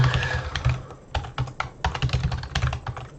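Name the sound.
typing a password on a computer keyboard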